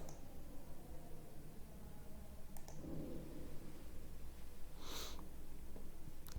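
A few faint, sparse clicks from a computer mouse and keyboard key while deleting chart grid lines, spaced seconds apart over a low background hiss with no talking.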